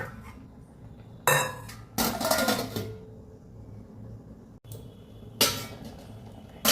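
Metal pot and lid clatter while greens cook, with several loud scraping clanks in separate bursts, including the lid going on, set against a quiet background hum.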